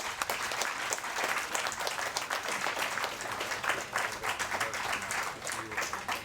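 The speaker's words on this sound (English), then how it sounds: "Let's have one more round of applause for them." A crowd applauds three new inductees at a tennis Hall of Fame ceremony, with dense, steady clapping lasting the full stretch at moderate loudness.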